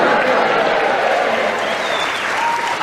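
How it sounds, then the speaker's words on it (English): A studio audience at a Harrogate recording of the radio panel game Just A Minute breaks into dense, sustained applause, loud and close throughout. "the reason everybody in the audience has clapped is because it's a very famous haunt here in Harrogate"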